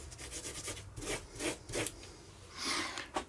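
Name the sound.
cleaning a brass nut on a backhoe starter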